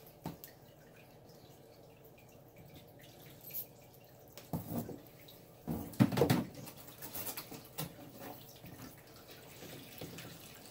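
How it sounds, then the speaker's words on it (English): Water is drained with a gravel vacuum siphon during a water change on a 20-gallon open-top office aquarium. Quiet trickling and dripping are punctuated by a few louder gurgling splashes in the middle. "this is how I do a standard water change on my 20-gallon open top office tank."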